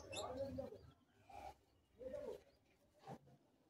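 A Madrasi high-flying pigeon coos in several short, soft phrases with pauses between them, close by and fairly quiet.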